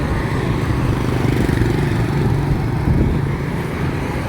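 Traffic rumbles across a busy bridge in Da Nang, Vietnam: a continuous low engine drone of cars and motorbikes, steady and fairly loud, with no one speaking over it.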